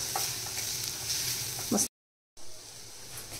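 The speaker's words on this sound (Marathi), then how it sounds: "आता ही डाळ आपण ह्या फोडणीमध्ये छान मस्त अशी फ्राय करून घ्यायची आहे" Lentils being fried in a spiced tempering over medium heat, a steady close sizzle with stirring scrapes, cut by a brief silent gap before the frying hiss resumes.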